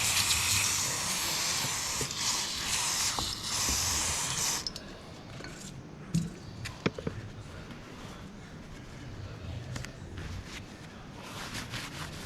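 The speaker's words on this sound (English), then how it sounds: "There we go, cleaning fluid, brake cleaner." Brake cleaner sprays in a steady, loud hiss from an aerosol can during final assembly of an XR V204110 part, then stops, leaving faint clicks and handling noises nearby.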